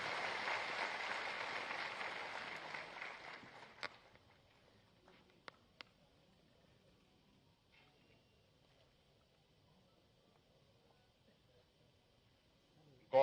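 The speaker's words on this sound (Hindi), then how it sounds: "जोरदार तालियों के प्रणाम के साथ।" Loud applause from an audience at a state-level workshop on cow-based natural farming, steady clapping that fades out after about four seconds, followed by a few isolated claps and near silence.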